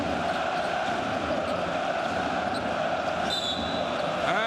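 Basketball arena crowd at a Partizan versus Zenit game cheering loudly in full voice, a continuous roaring wall of noise throughout, with a faint whistle-like tone near the end.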